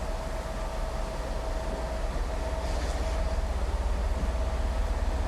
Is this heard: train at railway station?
yes